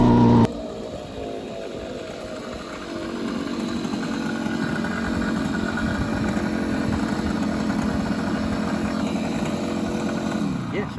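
A Suzuki T125 Stinger two-stroke motorcycle engine, 15 brake horsepower, runs with a raspy, buzzing ring that climbs in revs and holds steady, close and loud, with someone talking briefly at the start.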